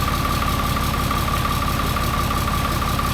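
A Ram 3500 diesel engine with a snapped-off exhaust pipe idles steadily and close, a continuous rumbling drone with a faint uneven lope and no voices.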